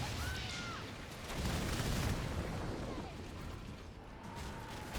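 Thunder Dragon Cannons fire a volley in the naval game Skull and Bones, a broad rumbling boom that swells near the middle and carries through the whole stretch over a dense, noisy background.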